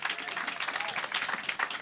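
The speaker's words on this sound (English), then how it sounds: "Big round of applause for..." A lively crowd breaks into a round of applause at a live stage event, dense, fast clapping with some crowd noise mixed in.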